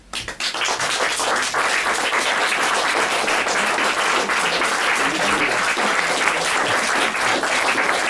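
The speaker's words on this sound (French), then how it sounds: "applaudissez" A theatre audience at a French literary reading-performance breaks into loud, sustained applause, a thick wash of many hands clapping close by, steady throughout with no voices on top.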